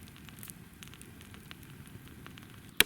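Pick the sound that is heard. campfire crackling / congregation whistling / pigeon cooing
campfire crackling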